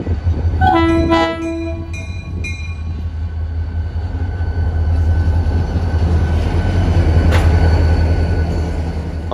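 A Florida East Coast Railway freight manifest train rumbles past nearby, opening with loud horn blasts before the heavy, steady roll of the passing cars takes over.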